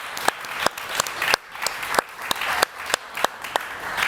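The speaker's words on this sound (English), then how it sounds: "One more round of applause." Applause from a small group at a Comic-Con live stage show, with several sharp, louder claps standing out in an uneven rhythm over a steady patter of clapping.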